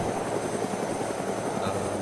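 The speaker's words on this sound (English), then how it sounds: "The game takes control of the helicopter and puts it into a stable hover." A helicopter hovers steadily in ArmA II DayZ, its rotor and engine producing a continuous loud, even drone with a broad wash of noise and no break throughout.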